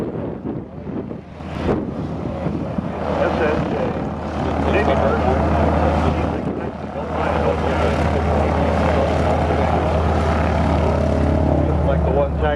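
A WWII-era airplane taxis at an airshow, its propeller engine giving a steady, loud droning rumble throughout, with wind buffeting and a voice speaking over it.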